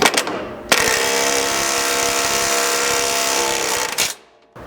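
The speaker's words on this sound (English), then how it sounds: "grab the 1/2 inch self-threading bolts from your kit, a 3/4 socket, and you can run these in." Power tool with a 3/4 socket driving 1/2 inch self-threading bolts during a skid plate install on a 100 Series Land Cruiser, one steady loud whirring run of about three seconds that stops abruptly.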